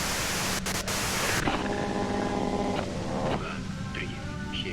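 Radio white noise static from the video game Disco Elysium, a steady broadband hiss that starts out loud, drops in level after a second or so, then carries on with faint tones and music beneath it.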